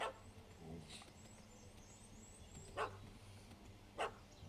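A dog in The Witcher 3 gives a few sharp barks, spaced apart, at a moderate distance over a faint ambient background, with no talk.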